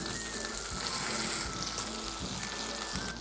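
Pomfret frying in a pan just after being flipped, giving a steady, close hiss of sizzling oil that runs unbroken and even throughout, with no voices.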